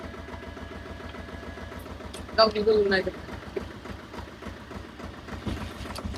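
A tractor stuck in mud idles with a steady low chugging pulse, while people talk nearby over the engine.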